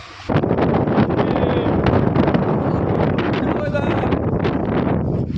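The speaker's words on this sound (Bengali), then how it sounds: "কি বাতাস!" Strong storm wind buffets the microphone in a loud, continuous roaring gust that starts abruptly and never lets up, with faint voices partly buried beneath it.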